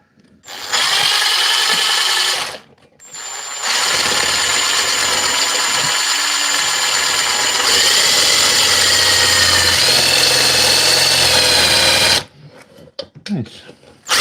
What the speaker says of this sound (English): See if I can drill this